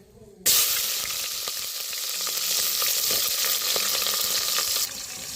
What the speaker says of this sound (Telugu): ఆయిల్ అయితే బాగా వేడింది కదా ఉల్లిపాయ పచ్చిమిర్చి వేసుకొని బాగా ఫ్రై చేసుకుందాం